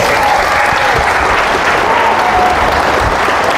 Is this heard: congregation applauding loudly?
yes